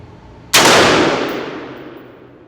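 A single loud gunshot from a budget AR-15 rifle at an outdoor range cracks out abruptly and rings off in a long decaying tail, with no further shots following.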